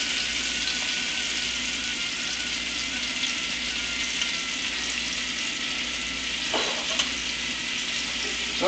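Chicken pieces seasoned with herbes de Provence browning in a pan, a steady close sizzle and crackle of frying that holds throughout, with a couple of faint utensil clicks near the end.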